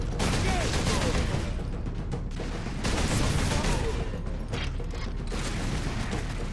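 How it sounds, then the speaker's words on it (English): Sustained gunfire from Warhammer 40,000: Space Marine fills the scene, dense overlapping bursts and rattling shots with mechanical clanks, loud and continuous, with heavier surges partway through and no voice on top. "somebody's shooting at me from down here"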